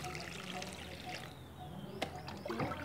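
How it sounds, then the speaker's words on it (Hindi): Water poured from above into a freshly repotted Dracaena reflexa (Song of India) pot filled with soil, a quiet, steady trickle that runs continuously without pause. "अब हम इसमें पानी डाल देंगे"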